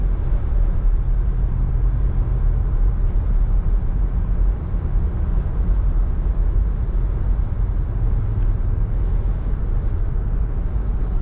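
A 1975 Oldsmobile Cutlass S with 17,129 miles pulling away smoothly at quarter to half throttle, a steady low engine drone with road rumble, heard from inside the car with no talking.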